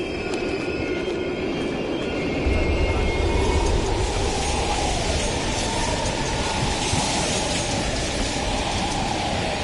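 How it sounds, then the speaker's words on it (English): A train rolls past in Call of Duty Cold War at an abandoned East German station, a loud, sustained rumble and rattle of wheels that swells about a third of the way in and stays heavy to the end. "We can use a train to slip past"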